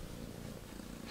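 A pet cat purrs close by, a soft, steady, low rumbling hum that runs unbroken and faint with no voices over it.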